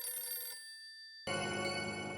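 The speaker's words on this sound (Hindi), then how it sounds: "बापूजी का फोन।" A telephone bell rings in a quiet room, sounding in two short bursts with a brief silent gap between them, clear and alone with no talking.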